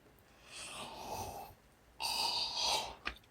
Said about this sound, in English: Excuse the yawn